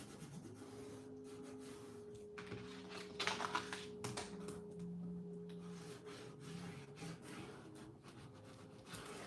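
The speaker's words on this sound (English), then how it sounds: "Burnish. Burnish." Paper is firmly rubbed flat by hand while assembling a 12x12 scrapbook album, a faint, close scraping and rustling in short strokes over a soft steady background hum.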